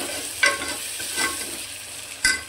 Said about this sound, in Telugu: ఉప్పు, తగినంత కారం, పసుపు, ఇవి 3 వేసి ఒక్కసారి కలుపుకోవాలి